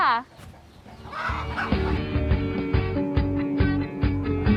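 Native Thai chickens cluck repeatedly and fairly close by, with overlapping calls and a busy flock chatter. Music plays throughout, and a short sharp sound opens the sequence.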